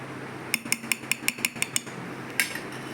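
A spoon clinks against a glass about eight times in a steady rhythm while stirring organic honey into a carrot and beetroot drink, then gives one more scrape and tap near the end, close and fairly quiet.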